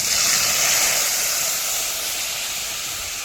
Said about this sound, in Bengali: মশলাটা দেওয়ার পর লো টু মিডিয়াম হিটে 3-4 মিনিট এখানে ফ্রাই করে নিচ্ছি